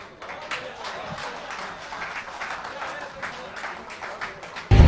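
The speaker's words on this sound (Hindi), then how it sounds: "कालिया के लिए तालियां रुकनी नहीं चाहिए।" An audience claps at a live stage event, a steady, moderately loud wash of applause throughout, ending in a sudden loud thump.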